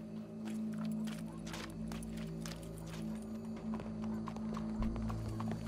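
Horse hooves clip-clop steadily through a Red Dead Redemption 2 game scene, a continuous rhythmic plodding over a constant low hum and faint ambient game sound, with no one speaking.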